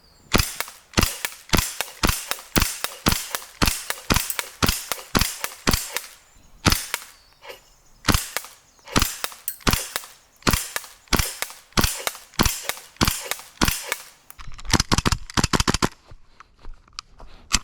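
An old, unmaintained KWA ATP airsoft pistol fires rapidly at close range, about twenty sharp cracking shots in a quick, mostly steady rhythm, with a brief pause partway through and no speech.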